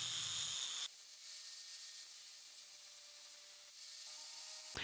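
An angle grinder sharpens the bevel of a steel chisel, giving a steady, loud, high-pitched grinding hiss that holds for several seconds before cutting off, with no talk.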